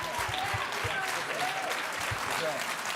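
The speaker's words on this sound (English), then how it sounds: "we get a standing ovation" Standing ovation from a summit audience, dense steady clapping filling the room at full strength throughout, with voices talking over it.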